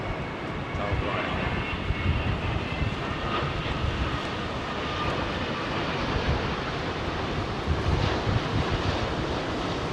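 A Boeing 787 Dreamliner on approach to London Heathrow makes a continuous low, rumbling engine roar that holds steady and fairly loud throughout.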